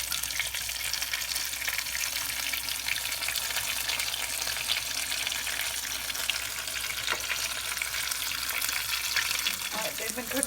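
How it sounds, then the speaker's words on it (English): Egg-battered chile relleno lying in frying oil gives a light, steady sizzle and crackle that runs without a break, with a brief clatter right at the end. "And you lay it in the oil. You can see it's lightly sizzling."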